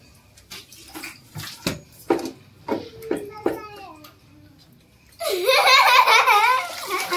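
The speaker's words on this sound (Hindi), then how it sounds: "ऐसे इसमें पानी डालो ना एक बार हो जाएगा" Water poured from a container into a mop bucket while cleaning a home floor with a Crezon spin mop, a loud steady splashing gush in the final two seconds after a stretch of talk and a voice.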